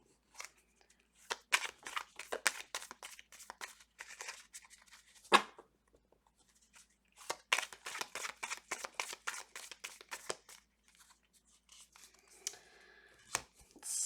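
Tarot cards are shuffled by hand in close, quiet bursts of rapid flicking and riffling, with a pause in the middle and a sharp tap or slap here and there.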